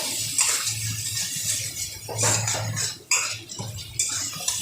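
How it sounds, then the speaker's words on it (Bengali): Spice paste for a Bengali kangla (carp) fish tel jhal sizzles in a pan with a splash of water, a steady close hiss with brief surges and light scraping as it is stirred. "এবার সামান্য একটুখানি জল দিয়ে মশলাটাকে খুব ভালো করে ভেজে নিতে হবে"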